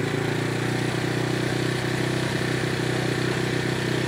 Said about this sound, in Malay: Macam semput juga motor ni.